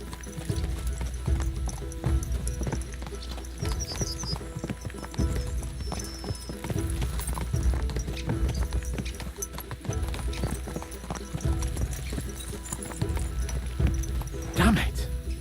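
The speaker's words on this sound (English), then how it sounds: "Let's really spur these horses on, eh?" Horses galloping in the medieval video game Kingdom Come Deliverance II, a steady rapid clip-clop of hooves with occasional whinnies, running throughout under continuous game sound and talk.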